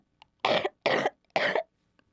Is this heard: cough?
yes